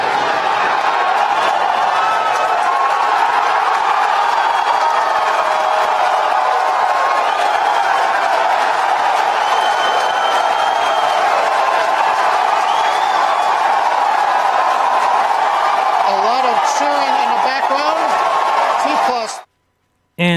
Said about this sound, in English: the cheering you hear is from employees who probably get a bonus for actually showing up and cheering like maniacs